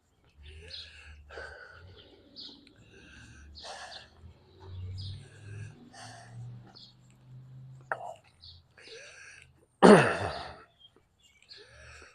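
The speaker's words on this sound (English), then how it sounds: "Robins." Robins sing outdoors on an Easter morning walk: short, bright chirps and phrases scattered at a moderate distance over a low rumble, with a sharp nearby noise toward the end.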